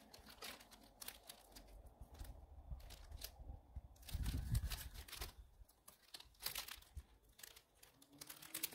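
Stapled package of craft stems being pulled open by hand, giving soft, close crinkling and tearing rustles in short irregular bursts, with a slightly heavier rip partway through.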